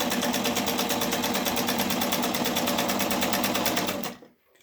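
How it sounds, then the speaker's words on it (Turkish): An Omega pedal-operated sewing machine stitches in a fast, steady whirring chatter of rapid needle strokes, close and loud, then stops abruptly just before the end as the pedal is released. "Pedala bastığımızda makine dikmeye başlıyor."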